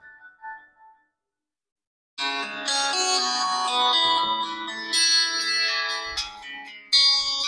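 A Xiaomi POCO C75 phone speaker plays a ringtone, a bright chiming melody starting after a short quiet pause and continuing in ringing, bell-like phrases, close and moderately loud.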